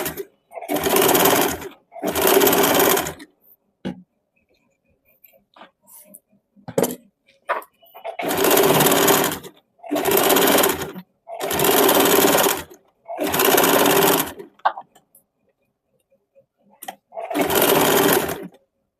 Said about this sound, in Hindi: इसमें चाप सिलाई चला देंगे।